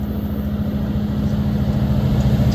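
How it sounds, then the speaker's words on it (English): Amtrak Capitol Corridor passenger train 545, led by locomotive 2001 with cab car 8301, passes close by as a steady, loud low rumble and engine drone with a sustained tonal hum, no horn or voices evident. "here comes another Amtrak train."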